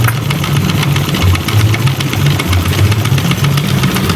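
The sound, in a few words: Stirling engine fan running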